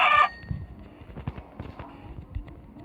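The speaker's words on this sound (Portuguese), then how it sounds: "lá tem mais uma galinha" Chicken clucking in a video game, a short burst of clucks at the start that gives way to quieter footsteps and game noise.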